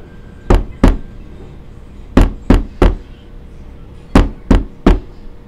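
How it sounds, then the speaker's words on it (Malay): Knocking on a door in three groups of three sharp raps, each group separated by a pause of over a second, loud and close with nothing else sounding. "Okey, dia akan ketuk."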